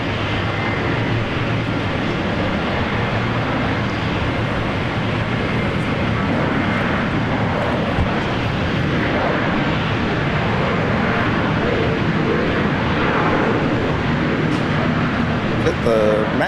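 A Boeing 737-800 jet with scimitar winglets at Brisbane Airport produces a loud, continuous broadband engine roar that holds steady the whole time.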